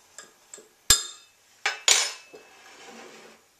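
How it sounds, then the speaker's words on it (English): A utensil clinks and taps against a bowl while eggless vegan banana date bread batter is mixed. A few sharp, irregular knocks are followed by softer scraping, close and fairly quiet, with no talking. "Mixing this all up, and then I'm going to add this to the wet mixture."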